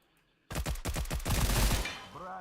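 A sudden burst of rapid automatic gunfire in the post-apocalyptic MMO Stalcraft, loud and close, lasting about a second and a half before tapering off.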